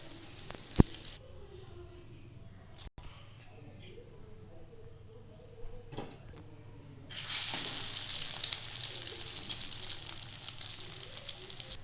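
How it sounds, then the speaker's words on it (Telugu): Bread slices dipped in beaten egg sizzle in hot oil in a pan, a steady soft frying hiss that swells much louder and brighter partway through, with low speech underneath. "సేమ్ ఇలానే డిప్ చేస్తూ ఫ్రై చేసుకోవడమే"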